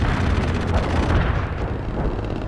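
Artillery strike in World in Conflict, a steady, heavy rumble of overlapping explosions that rolls on without pause, loud and close, with no voices over it.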